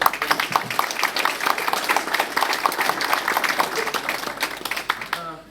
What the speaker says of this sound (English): I'd like everybody to give them a round of applause now.